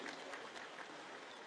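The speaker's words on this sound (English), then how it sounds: "A good applause for them" Audience applause at a church gathering where a bishop recognizes guests, a short burst of dense clapping at moderate distance with no voices.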